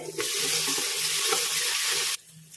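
Ginger garlic paste, onions and tomato fry in a pan for gongura egg biryani, a dense, close sizzle with stirring scrapes that cuts off sharply near the end, leaving a quieter hiss.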